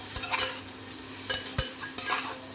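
Cabbage frying in oil with cumin for a cabbage and capsicum bhujia, stirred with a utensil: a low, steady sizzle with a handful of sharp scraping and tapping stirs, close and fairly quiet, with no talking.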